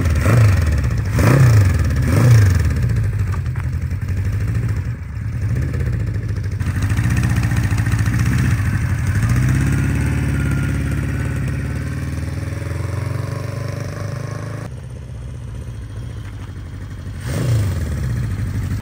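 An old Honda CB550 motorcycle being ridden on a hot day: several sharp revs and gear-change blips at the start, then a steady mid-pitched engine drone that rises and falls, with another rev near the end.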